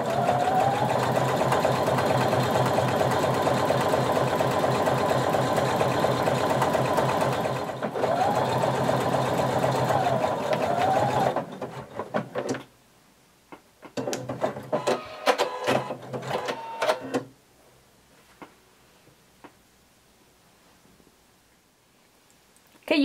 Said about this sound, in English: put this under your sewing machine and using your zigzag narrow stretch stitch, you're going to sew 5/8 of an inch seam allowance